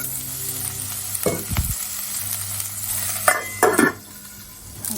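Cabbage stir-fries in sunflower oil in a frying pan, a steady close sizzle punctuated by a few sharp scraping and clinking strokes of a utensil against the pan.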